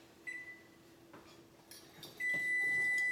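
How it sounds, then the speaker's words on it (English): Electronic kitchen timer beeping during pie crust preparation, a thin steady tone sounding briefly early on, then returning louder and sustained at the end over a faint room background. "Oh, gotta turn my timer off."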